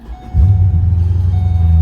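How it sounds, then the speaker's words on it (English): A car engine turns over and catches, then settles into a loud, steady low exhaust rumble close by, with no talking. "a lot of people have been asking to see what the car sounds like"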